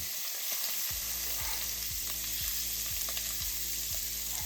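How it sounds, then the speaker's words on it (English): Pieces of beef frying in a pan for Asian beef and broccoli give a steady, close sizzle with faint regular taps as more pieces go in. "I'm just going to put these in, get these cooking up."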